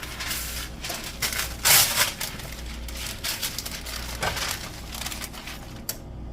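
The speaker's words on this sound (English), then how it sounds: "All I did was wrap it with parchment and foil and wrap it super tight on a parchment lined baking sheet" Parchment and aluminium foil crinkle and crumple as they are wrapped tightly around a baking dish on a lined baking sheet, giving a continuous close rustle with one louder crush partway through.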